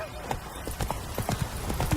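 Hooves of the horse Roach clatter at a gallop in The Witcher 3, a quick rhythmic clip-clop of repeated strikes, close and fairly soft, with a voice faintly under it.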